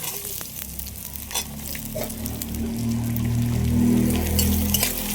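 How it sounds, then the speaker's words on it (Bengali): Ginger, garlic and spices fry in a pan for chicken kosha, giving a close, steady sizzle with a few sharp stirring knocks and a low hum underneath that swells slightly toward the end. "সবগুলো একটু ভালো করে ভেজে নিই মশলাগুলো একটু ভালো করে ভেজে নিয়েছি"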